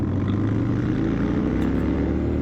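A 2023 Indian Chief motorcycle accelerating in sports mode gives a loud, steady, low engine roar that holds constant throughout, with no talk over it.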